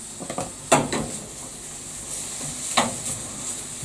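Bits of food frying in a pan, a soft steady sizzle with a few sharp scrapes and clinks as they are stirred about, close and fairly quiet with no talking.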